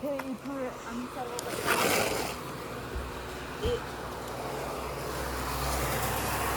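Someone speaks briefly, then a steady rush of water pours and splashes into a newly built tank nearby, growing fuller and continuous.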